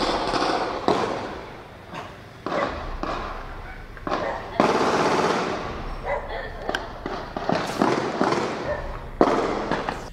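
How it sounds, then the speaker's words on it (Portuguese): Sharp bursts of rapid gunshots crack out in irregular clusters, echoing, with voices talking in between. "No áudio que recebemos esta semana de alguns moradores, dava para escutar a rajada de tiros."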